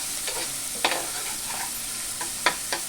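Onion and turmeric sautéing in a pan, a soft steady sizzle broken by a few sharp stirring scrapes, close and fairly loud with no voices.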